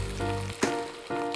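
Thick slices of toast deep-fry in 180-degree hot oil, a brief bright sizzle with a few sharp crackling bursts, close and fairly quiet.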